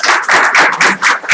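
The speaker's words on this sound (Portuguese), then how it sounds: "Queria só pedir uma salva de palmas aí para a galera." Clapping from a small audience at a Management 3.0 talk, a brief burst of rapid, close, loud claps in uneven bunches.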